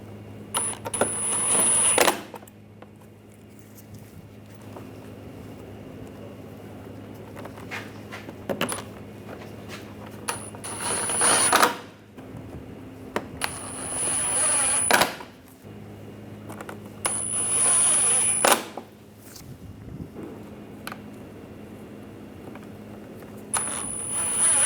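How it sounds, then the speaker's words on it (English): Screws are driven and snugged down on the front bumper cover of a 2010-2014 Volkswagen GTI. Several short tool bursts come with metallic clicks and rattles between them, close by and moderately loud. "Put these screws in, snug those down."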